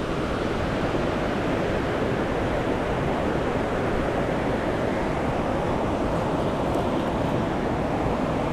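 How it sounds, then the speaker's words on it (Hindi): Steady, loud, broadband rush of a waterfall at Tamarind Falls, one of the 7 Cascades in Henrietta, Mauritius, continuous and unbroken throughout with no voices. "यहाँ से पानी गिर रहा है। ये है वाटरफॉल"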